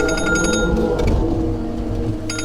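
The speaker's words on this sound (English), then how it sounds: "Where's my phone? Stand by, guys. Never-ending phone calls." A phone rings with an electronic tone in short bursts, once at the start and again at the end, with a gap of rumbling background noise in between, fairly loud and close.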